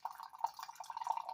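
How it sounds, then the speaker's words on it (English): Peach kombucha poured into a cinnamon-spiced drink gives a thin, steady trickle with a few bright splashy drips, quiet and close for just over a second. "Pour some peach kombucha"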